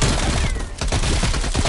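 Rapid submachine gun fire from the Call of Duty Cold War Zombies video game, a loud, dense burst of shots packed close together, with a brief dip in the middle before the firing resumes just as hard.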